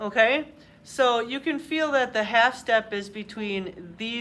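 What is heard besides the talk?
No everyday noise stands out behind the speech.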